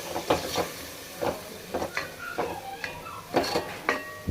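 Spoon or spatula scraping and clinking in a pan while bagara rice is mixed with garam masala, biryani masala and curd, giving irregular close metallic knocks and scrapes over a soft hiss, with no talking.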